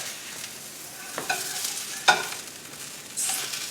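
Hashbrown potatoes fry in a pan under a soft sizzle, with a few scraping spatula strokes and a sharp clack as the potatoes are flipped.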